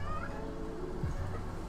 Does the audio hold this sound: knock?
no